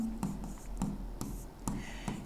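Writing on a board during a Class 8 maths lesson makes a series of short, crisp scratching strokes in an uneven rhythm, close and fairly quiet, with no talking.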